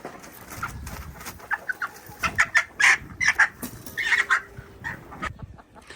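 Chickens on a farm, about twenty hens being moved in cages, cluck and squawk in repeated short bursts, loud and close over a low rumbling background.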